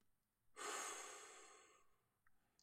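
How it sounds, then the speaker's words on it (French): One slow, deep breath is heard up close during a calm relaxation exercise, a soft airy exhale that fades gradually, followed by a brief faint sniff. "Une troisième inspiration."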